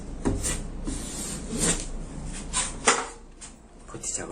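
A scraper spreads a first coat of putty across a veranda wall in uneven rasping, rubbing strokes with a few sharper scrapes. The strokes are fairly close and there is no talk.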